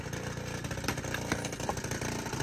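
Rock being drilled with a power drill during stone breaking in an isolated Há Đề village: a steady, loud, buzzing motor whine with rattling impacts, continuous and close, with no talk.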